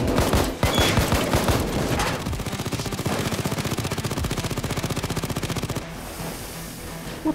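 Gunfire in the Payday 2 video game: a dense, loud stream of rapid shots, first irregular bursts and then a steady fast rattle that stops abruptly near the end.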